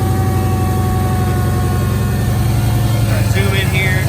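A car engine fitted with a blower spacer, a new Griptec pulley and a new throttle body idles steadily after starting, a loud, even low rumble with a faint whine rising near the end.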